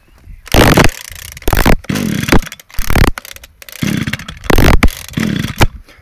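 Echo SRM 250 SI brush cutter two-stroke engine firing in loud, repeated bursts as it starts and revs, each sharp roar dropping back between pulls and throttle blips, close to the listener.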